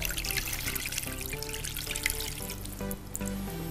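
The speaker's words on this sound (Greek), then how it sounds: "θα βάλω να καλύψω το κρέας μου με νερό" Water is poured into a pot to cover pork, a steady trickling and splashing stream heard close up and continuously, with a faint background hum and no talk.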